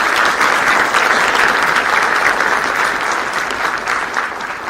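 Dense, sustained applause from a large convocation audience, steady and loud throughout with no break, easing slightly toward the end.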